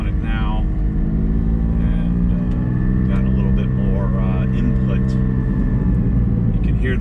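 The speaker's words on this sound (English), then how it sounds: "You can hear the exhaust difference." A Porsche GT4 fitted with a Soul Performance over-axle exhaust pipe drones steadily while driving, a constant loud low engine tone with someone talking over it.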